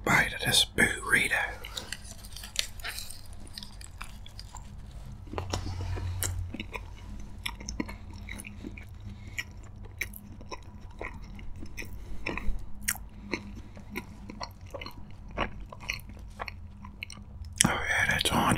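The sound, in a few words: biting and chewing a burrito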